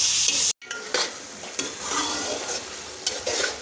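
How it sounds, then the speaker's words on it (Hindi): Potatoes, peas and carrots are stir-fried in a pan with a continuous close sizzle, broken by a brief silence and then by repeated scraping stirs against the metal. "इनको हम मज़ीद 6 मिनट के लिए अच्छी तरह से भून लेंगे।"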